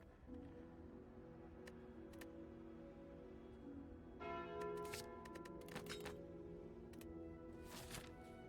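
Bell chimes in a card video game shop, a steady sustained tone bed with bright clustered ringing strikes growing denser in the second half, moderately loud with no talk.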